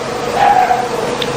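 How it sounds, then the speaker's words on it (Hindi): A dog gives a short yelping bark outdoors, brief and fairly loud against a dull background hum. "कुत्ते भी भौंक रहे हैं"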